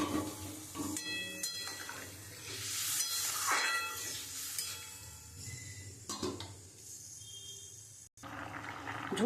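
Strained water pours into a hot pan of mustard fish curry, a close, rushing hiss that swells and fades with light clatter from the pan.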